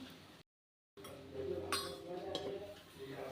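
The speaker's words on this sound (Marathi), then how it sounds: "यावर आता आपण झाकण ठेवून घेऊया" A lid is set on an appe pan with one clear clink and a short rattle. A quiet murmur of kitchen noise follows.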